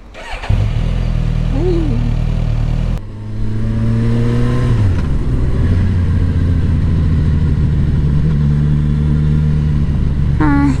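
A Suzuki Katana motorcycle engine revs and accelerates at highway speed with rising and shifting tones, loud and close, over steady wind and road rumble.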